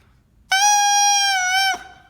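A bassoon blown with too much reed in the mouth produces one harsh, bright, buzzing sustained note of a little over a second, close and loud, alone without speech.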